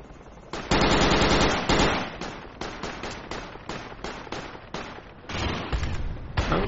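Automatic gunfire from a video game battle, loud rapid bursts of shots repeating in short volleys with brief gaps, with no talk over it.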